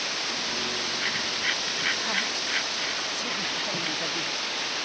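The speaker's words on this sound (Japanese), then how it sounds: "こちらが第2の滝です" The second waterfall of the Akame 48 Waterfalls gorge in Japan gives a steady, dense roar of falling water throughout, with faint voices briefly audible beneath it.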